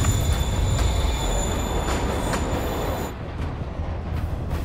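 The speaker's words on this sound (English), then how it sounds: "train's moving" A moving train rumbles steadily close by, with metallic wheel squeal and clattering rail noise, fairly loud throughout and easing slightly near the end, with no talk.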